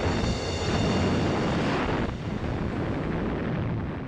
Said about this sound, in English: A series of devastating explosions rocked the Scharnhorst as the torpedoes found their target